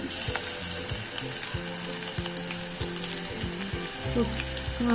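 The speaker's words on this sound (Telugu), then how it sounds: "ఇవి ఫ్రై అయిన తర్వాత ఇప్పుడు వెల్లుల్లి అయితే యాడ్ చేస్తున్నాను" Garlic frying in oil for Andhra tamarind rasam (chinthakaya menthi charu), a continuous close sizzle with faint clinks and scrapes of stirring, no talk.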